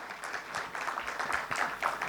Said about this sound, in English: can you all give a huge round of applause to each one of you?